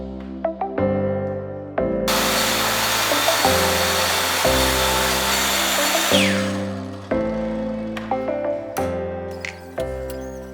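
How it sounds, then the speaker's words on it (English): A track saw squares up and trims the ends of scrap wood pieces for a floating shelf, its steady high-pitched motor whine and cutting noise running loud and continuous for several seconds beneath intermittent background music. "Now I'm just squaring everything up with the track saw, cutting out the ends here."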